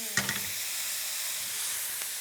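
Soy sauce hits a hot pan of mushrooms to deglaze it, setting off a sharp burst of sizzle and clicks at first. A soft, steady steam hiss then carries on alone.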